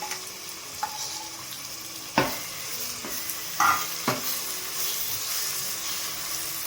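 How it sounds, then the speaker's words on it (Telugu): Spices, garlic, green chillies, cloves, cinnamon and coriander frying over medium flame for a chicken and brinjal curry, a constant close sizzle broken by several sharp stirring scrapes and clinks of a spoon against the pan. "మీడియం ఫ్లేమ్లో పెట్టి నిదానంగా వేగనివ్వాలి."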